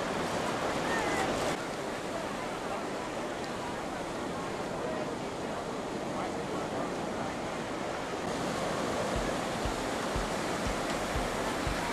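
Steady roar of ocean surf on a sandy beach, waves washing and breaking continuously, a broad rushing wash that swells slightly toward the end.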